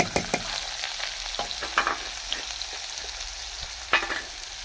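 A single onion sautés with urad dal in a hot pan, a steady quiet sizzle broken by soft scrapes and clinks of a stirring spoon, close and alone without talk.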